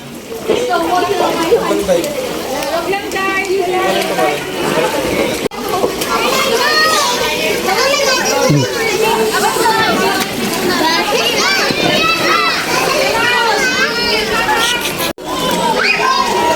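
A crowd of kids shrieking, shouting and chattering at a splash-and-play pool party on a farm resort, loud and continuous with overlapping young voices and occasional splashing.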